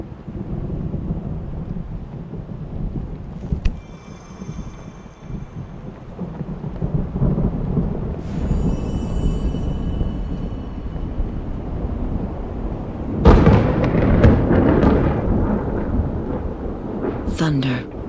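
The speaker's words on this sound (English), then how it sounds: "Thunder." Thunder and rain in the video game The Pirate Queen, a low rolling rumble over steady rain, with a heavier crack of thunder surging near the end.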